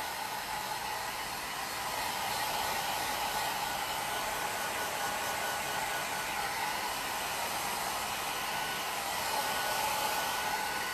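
A hair dryer blows steadily on a plaster piece to dry freshly applied shellac, a continuous close airy whir holding even for the whole stretch with no talking.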